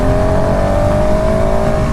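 2019 KTM SMC R single-cylinder motorcycle engine revving steadily under load on a test ride, a loud continuous droning buzz with wind rush, close and with no speech.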